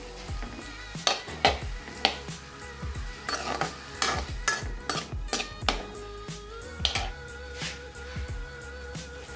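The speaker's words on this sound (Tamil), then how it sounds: "தக்காளி கொஞ்சம் வதங்கட்டும்." Tomatoes sautéing in a pan for onion tomato chutney, a busy run of sharp spatula scrapes and clanks against the metal over a steady sizzle, close and rhythmic, with no talking.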